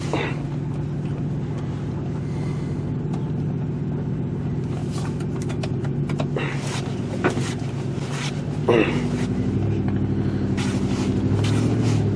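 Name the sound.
Ford Explorer driving on a test drive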